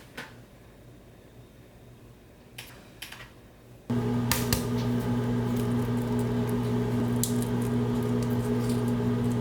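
Boiled eggs are peeled by hand, giving soft cracks and crinkly shell-breaking sounds at first, then steady louder rustling over a constant background hum.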